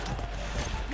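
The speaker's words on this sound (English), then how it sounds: "Loading fresh mag." Magazine swap on an SMG in Modern Warfare 3, the FJX fitted with the JAK Scimitar kit: a short burst of mechanical clicks and creaks, close and fairly loud, ending in a sharper metallic snap.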